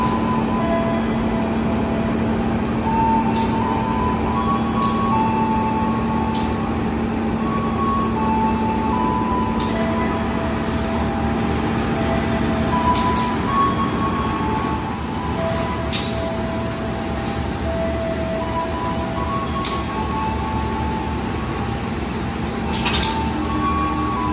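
A Singasari passenger train runs overnight from Jakarta to Blitar, hauled by a CC201 diesel locomotive with nine passenger cars and a dining-generator car. A steady rolling rumble and hum fill the clip, with periodic clicks and clinks of wheels over rail joints.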